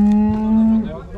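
A cow at a livestock cattle market gives a single loud, close, drawn-out moo that holds steady and then breaks off, followed by faint background noise.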